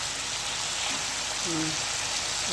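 Chicken pieces with softened tomatoes and spices sizzle steadily in a pan for Bengali chicken kosha, a dense, even hiss of frying heard close, with faint low sounds beneath and no talking.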